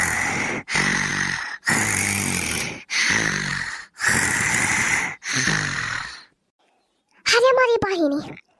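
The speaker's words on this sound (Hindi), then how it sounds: "बुढ़िया तो खर्राटा मारती बाई" An old woman snoring in a rural comedy skit: five or six loud, rough snore-like bursts in a steady rhythm, close by, followed by a short, wavering voiced sound.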